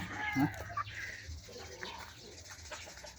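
Mixed-breed Brahma chickens in a backyard breeding pen, with a few short clucks and coos close by, a faint steady hum underneath, and no talking.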